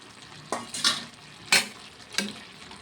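Fried prawns tipped into an ash gourd curry in a pan and stirred, giving three short scraping, sizzling bursts spaced about a second apart against a quiet background.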